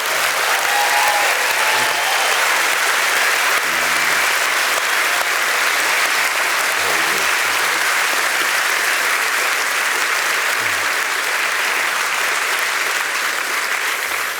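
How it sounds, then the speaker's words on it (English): A theatre audience applauds the cast at a year-in-review revue, a loud, sustained and even roar of clapping that holds for the whole stretch with no break. "can I have one last round of applause for this incredible cast?"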